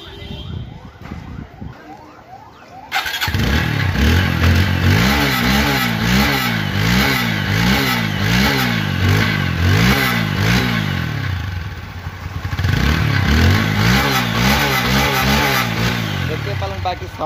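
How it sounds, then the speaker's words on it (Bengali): A TVS Apache RTR 160 4V motorcycle, with 6526 km on it, starts up, then its engine revs repeatedly in rising and falling surges, loud and close. The revving dips briefly before climbing again, with no talk over it. "এখন দেখো বাইকটির সাউন্ড এবং পারফরমেন্স"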